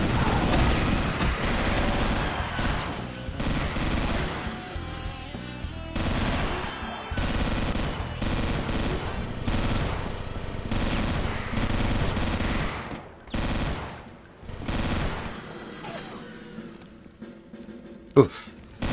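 Gunfire in the video game Brutal DOOM, dense rapid bursts with booming blasts layered over game noise, coming in repeated loud waves with brief lulls and one sharp spike near the end; a player talks over parts of it.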